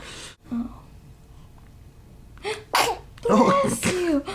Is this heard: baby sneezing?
yes